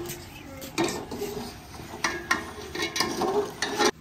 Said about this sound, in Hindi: अदरक लहसुन जो है ना कूटी जा रही है। अभी उसका पेस्ट बनाया जा रहा है